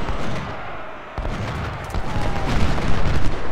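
Cannon and artillery fire in the Civil War strategy game Ultimate General: Civil War, heard as a dense, continuous battle rumble with overlapping booms and gunfire building slightly louder toward the end, with no voices over it.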